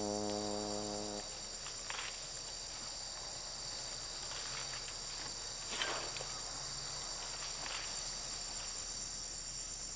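Insects buzzing and chirping steadily in the Asian wilderness near elephants, a constant high shrill drone with a few faint scattered clicks, while a brief low hum fades out at the start.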